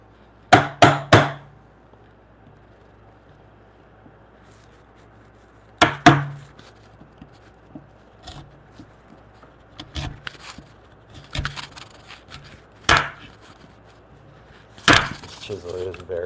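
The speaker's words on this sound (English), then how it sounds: "This chisel is very sharp." Sharp chisel struck into timber to cut a through mortise for a timber-frame bunk bed, giving sparse, sharp knocks: a quick cluster of three early, then isolated single blows spaced several seconds apart, fairly close and clear over a quiet background.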